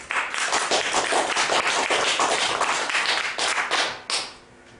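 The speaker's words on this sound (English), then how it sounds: "Everyone will give you a round of applause." An audience at a live comedy mind-reading show breaks into dense, loud sustained applause that dies away abruptly near the end.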